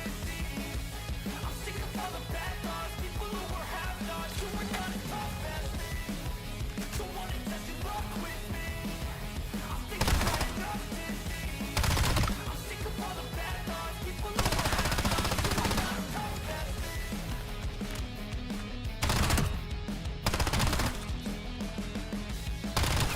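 Gunfire in a video game, with long sustained bursts of rapid automatic fire over a dense game soundtrack, punctuated by louder sharp shots, loud and continuous throughout.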